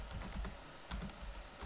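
Quick bursts of keystrokes on a computer keyboard, close and soft, with rapid clusters of taps separated by brief pauses and no talking.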